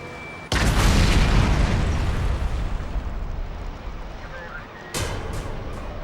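A huge bomb detonates in a deliberate, indiscriminate city bombing, a sudden loud blast followed by a long rolling roar that slowly decays, then a second sharp burst and crackling echoes near the end.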